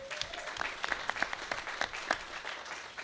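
Moderate applause from a gathered audience at an outdoor constitution release event, with distinct individual claps standing out from a looser crowd clatter.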